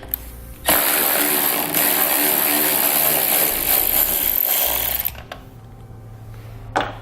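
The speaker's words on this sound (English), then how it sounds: "So we'll grab a 10mm socket or wrench and we'll loosen those up." A ratcheting 10mm socket wrench loosens a bolt on a pickup truck tailgate, giving a loud, continuous close-up mechanical whir and rasp for several seconds before stopping, followed by a few light clicks.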